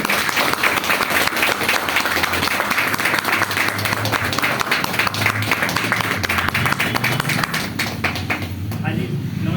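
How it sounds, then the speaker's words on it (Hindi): Audience at a business seminar giving loud, vigorous applause, a dense, continuous rattle of many hands that thins toward the end as a voice starts speaking over it. "एक बार जोरदार तालियां"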